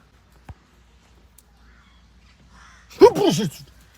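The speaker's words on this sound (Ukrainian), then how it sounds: "Ворона напала." A single crow caws once, fairly close, after a quiet stretch with one faint tap.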